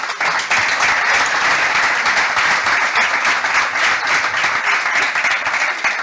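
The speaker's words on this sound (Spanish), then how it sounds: "Un fuerte aplauso para los cuatro." A conference audience gives loud, sustained applause for four guests joining the stage at an event on shipwright boat carpentry in the Canary Islands, a dense continuous roar of many hands that holds steady throughout.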